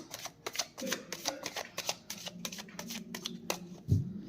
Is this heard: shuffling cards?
yes